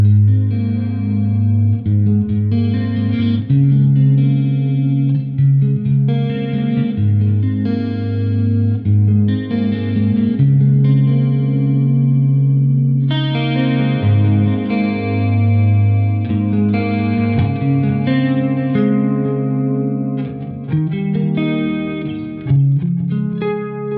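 A Schecter PT electric guitar plays clean chords and picked notes on the split neck pickup, with lush chorus shimmer and reverb, sustained and ringing for about twenty seconds.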